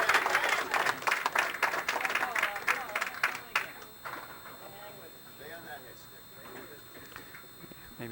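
Crowd at a bowling alley during a televised match reacts with clapping and cheering that fades after a few seconds, leaving quieter background murmur and voices for the rest of the clip.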